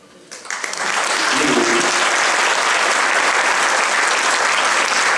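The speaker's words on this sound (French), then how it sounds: "j'aimerais qu'on applaudisse François" An orchestra concert audience breaks into applause, a few scattered claps swelling within a second into a dense, loud, sustained ovation that holds evenly to the end.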